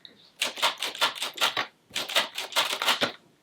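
Keys clacking on a vintage typewriter in two quick bursts of rapid, evenly spaced strikes separated by a short pause, close and crisp with no voices.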